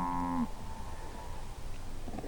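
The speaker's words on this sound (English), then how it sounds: "and sure enough, the cattle made a lot of noise." Cattle on a farm at night during a hog hunt give one short, fairly close moo at the start, then only low, rumbling background noise remains.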